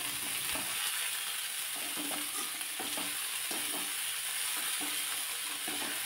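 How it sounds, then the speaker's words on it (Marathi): Chopped dill greens sautéing in oil in a pan, a constant sizzling hiss broken by rhythmic spatula scrapes and stirs roughly every half second, close and alone. "थोडा वेळ भाजी व्यवस्थित चांगली तेलामध्ये परतून घेतली"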